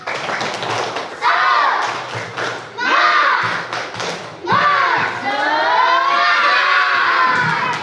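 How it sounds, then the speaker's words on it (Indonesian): Fourth-grade schoolchildren in a classroom perform a spirit clapping chant, shouting together in bursts with sharp claps between the chanted phrases, loud and close. "marilah kita tepuk semangat, tepuk semangat"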